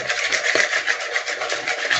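A whisk works lemon juice and zest into an eggless cake batter with chia seeds, giving a steady, close scraping and swishing that runs on without pause.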